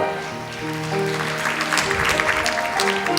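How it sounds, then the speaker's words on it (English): At the Miss Universe Sri Lanka 2011 pageant, an audience applauds a contestant, steady clapping rising over background stage music and continuing throughout. "please give a big round of applause for contestant number 5, Nosheen De Silva"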